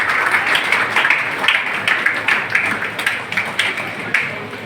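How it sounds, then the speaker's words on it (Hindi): Crowd applause for the organisers at the closing ceremony of a Bikaner youth games tournament, a dense sustained clapping from a large audience that continues steadily throughout. "तालियां तो बजाओ, इनके कारण तो हुआ है ये टूर्नामेंट"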